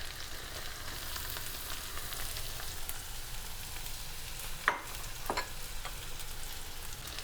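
Half an onion sizzles steadily in a pan, a constant frying hiss with a couple of sharp clinks or scrapes near the end, close by and with no speech.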